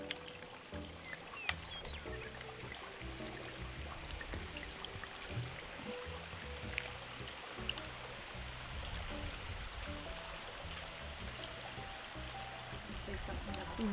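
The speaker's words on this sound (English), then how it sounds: "So now we're gonna just pour in our bottle of champagne." A bottle of champagne poured into a holiday punch bowl with fresh fruit and an ice ring, giving a steady, even wash of fizzing, splashing liquid that runs unbroken throughout.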